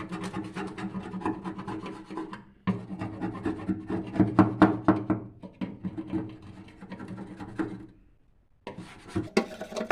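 A small scraping tool rasps stuck, hardened grime off a stainless steel stove after degreaser is sprayed on, a close, steady gritty scraping in repeated strokes that pauses briefly near the end before resuming, with no talking.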